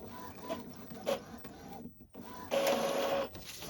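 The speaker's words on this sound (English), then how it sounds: "I just keep running it through the maintenance." An Epson ET 2803 printer, converted for sublimation, runs a maintenance cycle with whirring mechanical bursts, pauses and a steady motor tone toward the end, close and moderately loud.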